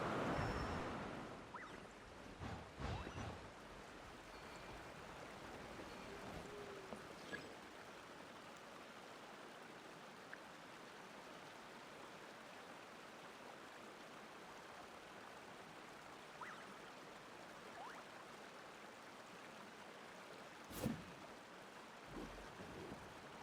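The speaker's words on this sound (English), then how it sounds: "there was a puzzle down at the bottom of the waterfall" Steady rushing water from a waterfall in Genshin Impact, a continuous broadband wash that holds constant throughout, with a few brief sharp game effects near the start and one around the twenty-second mark.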